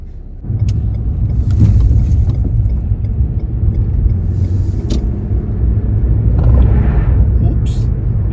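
A car drives along a cleared snowy road with snow banked at the sides, a low, steady engine rumble and road noise that continue unbroken, and faint voices sound now and then.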